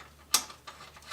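A nut is tightened on an E36 drift car's angle kit, giving one sharp close click followed by a few fainter ticks in about a second, with no voices.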